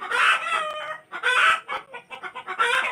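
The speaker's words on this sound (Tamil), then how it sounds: "எல்லா கோழியும் கத்துதுமா." Several chickens squawk and cluck in loud bursts close by, with a rooster's crow rising between the pauses. No one speaks.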